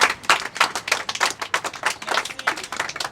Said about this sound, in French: j'aimerais aussi qu'on puisse vous applaudir maintenant pour cette cause.